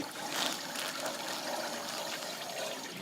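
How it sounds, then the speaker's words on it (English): A garden hose sprays water onto a backpack seam, a steady close hiss of rushing water with slight fluctuations as the stream hits the fabric. "we'll just hose down that seam"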